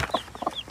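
A brooding farm hen clucking softly up close, a few short throaty clucks in quick uneven rhythm, heard alone without talk.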